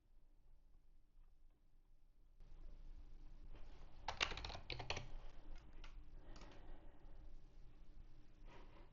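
Typing on a computer keyboard while filling out an online form comes as soft, irregular clusters of key clicks, with a brief louder burst of keystrokes in a quiet room.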